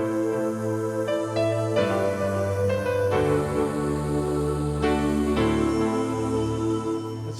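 A keyboard patch blending synths, strings, voices and a little piano plays a sustained, layered chord progression with soft melodic notes on top, steady and full with no talking.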